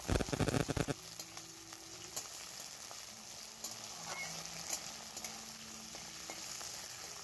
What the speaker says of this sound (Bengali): আলু আর ফুলকপি হালকা একটু ভাজা হয়ে গেছে।